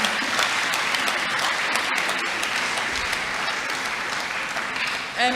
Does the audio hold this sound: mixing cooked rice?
no